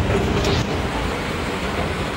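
MRT train at a station, a continuous rumbling rail roar with a faint high screech early on, close and steady.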